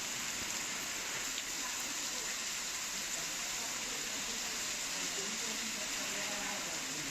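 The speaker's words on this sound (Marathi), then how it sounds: "सोलापूरमध्ये सुद्धा पावसाचा हाहाकार बघायला मिळतोय" Heavy pre-monsoon rain pours over Solapur, a dense, steady hiss of falling water that stays constant and loud throughout with no breaks.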